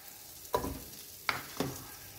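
Margarine hits a hot frying pan while fried rice is being made, giving three short close sizzling bursts with quiet gaps between them.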